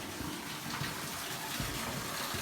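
Water pouring through the turbine of the old Simonsbath sawmill, a steady broadband rush with no talk over it.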